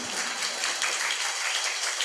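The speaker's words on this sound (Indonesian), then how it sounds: "Tepuk tangan." Applause from a church congregation at a Season of Creation opening Mass, a dense, steady patter of many hands clapping at moderate distance, sustained evenly throughout with no voices over it.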